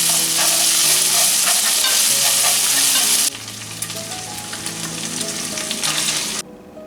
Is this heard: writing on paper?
no